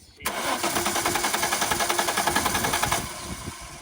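A 20e car engine with a failing fuel pump cranks for about three seconds, a loud, close, rhythmic churning of the starter that never catches, then stops abruptly.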